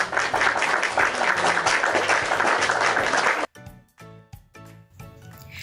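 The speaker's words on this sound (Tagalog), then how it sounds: "Bigyan nyo nga sila ng palakpak," Students applaud during a Filipino values lesson: dense, lively clapping for about three and a half seconds, then it cuts off abruptly and sparse rhythmic knocks and tones follow.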